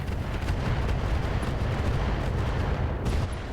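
Heavy weapon fire from a mech in RogueTech slams into a standard shredder turret, a dense, continuous roar of booming impacts and rumbling explosions that stays loud throughout, with a brief dip near the end.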